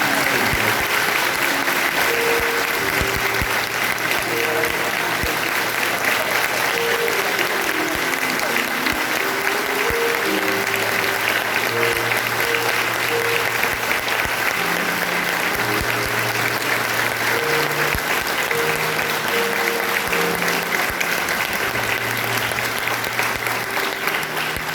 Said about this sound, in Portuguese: Vamos dar uma salva de palmas para esse